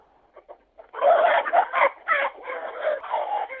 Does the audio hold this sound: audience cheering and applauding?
no